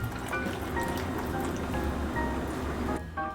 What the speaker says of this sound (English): Now we're going to add the broth.